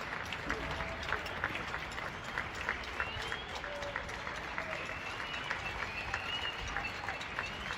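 People applaud from their windows in Paris on 31 March 2020 for healthcare workers: dense, continuous clapping rattles across the street without a break, with crowd voices mixed in throughout.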